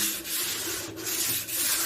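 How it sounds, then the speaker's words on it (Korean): Sandpaper rubs back and forth over a wooden drawer front, three strokes in quick succession, close and fairly loud with no voices. "마찬가지로 서랍의 전면도 사포를 이용해서 한번 살짝"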